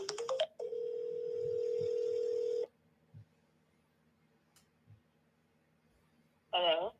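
A telephone dials out to reach a caller: a quick burst of keypad tones, then a steady dial tone for about two seconds, quiet background clicks, and a brief voice near the end.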